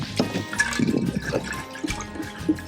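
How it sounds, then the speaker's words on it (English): Schweppes soda water is poured into a cup, giving a faint, broken fizzing splash with short bursts of liquid. "Soda water. I'm going to put a cup in."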